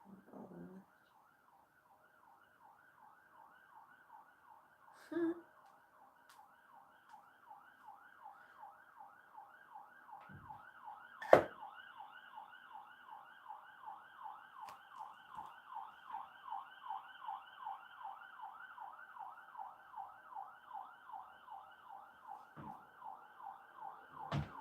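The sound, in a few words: sirens near a hospital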